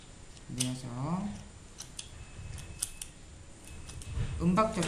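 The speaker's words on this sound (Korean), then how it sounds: "가위집을 내어줍니다." Scissors snip slits into a paper cup in a few short, crisp cuts at close range, interleaved with a woman's soft speech.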